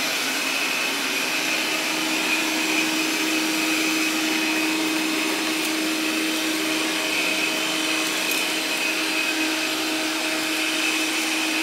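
An iHome AutoVac Nova robot vacuum running on high suction mode gives off a steady, continuous whirring hum with a constant airy hiss, loud and unchanging throughout with no talking.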